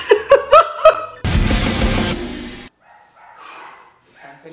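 Several sharp barks ring out in quick succession, then a loud burst of snarling, growling scuffle, followed by quieter rustling and distant yaps.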